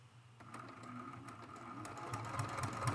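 A sewing machine fitted with a larger embroidery needle stitches filler quilting across an appliqué mosaic art quilt, a quick steady rattling hum that builds slightly and runs continuously, moderately close, with no talking.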